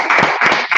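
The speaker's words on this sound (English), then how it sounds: "All right, clap it up." Short burst of group clapping at a gathering in Minneapolis, a few quick claps heard close and fairly loud with little else around.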